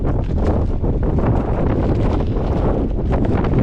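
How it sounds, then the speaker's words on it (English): Strong, steady wind buffets the microphone on a loose, grassy hillside trail descending toward the coast in Spain, a continuous loud roar with gusty rustle filling the whole clip and no talking. "This wind is picking up."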